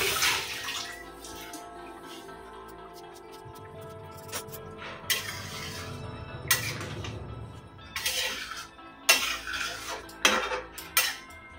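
Fresh coriander leaves are rinsed under a running kitchen tap, with water splashing steadily and occasional clinks and clatters of a bowl or utensils growing louder toward the end.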